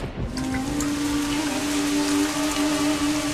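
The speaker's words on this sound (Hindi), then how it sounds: "बारिश आ गई जैसा कि हमने सोचा था।" Rain falls steadily in a continuous soft hiss with a low rumble beneath, even and unbroken throughout with no voices.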